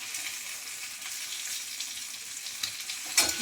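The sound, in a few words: frying papad (poppadoms) in a pan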